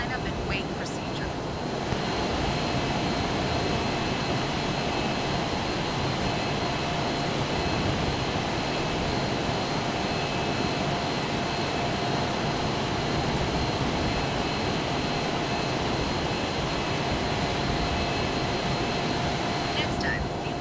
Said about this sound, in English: Power to mill and keep the jet centered down the runway.